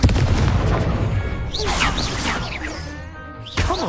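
Explosion spell cast in a Harry Potter video game: loud crashing bursts and whooshing blasts in quick succession, with chirpy magical effects layered over the top.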